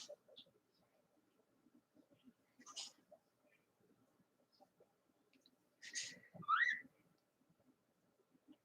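A pet bird gives a few sparse chirps and a short rising whistle, faint and indoors, separated by long quiet gaps with soft rustling from someone stitching nearby.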